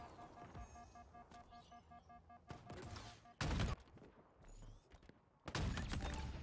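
Hydra weapon firing in Halo Infinite multiplayer, bursts of sharp gunfire and explosive blasts breaking through a busy backdrop of game music and effects, with the loudest bursts standing out near the middle and the end.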